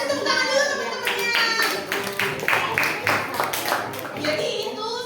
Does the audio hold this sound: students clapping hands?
yes